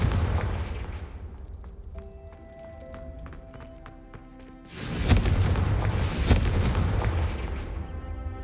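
In the video game Hogwarts Legacy, a Confringo fire spell fires with a rumbling low blast that builds into a loud, crackling burst of explosions, after a stretch of chiming magical tones.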